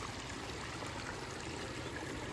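Water flows steadily through a rice field in Ngao district, Lampang, a faint, even trickling rush that continues unbroken without voices.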